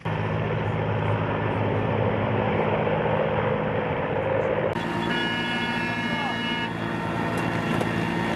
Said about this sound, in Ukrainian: Гвинтокрил відривається від землі.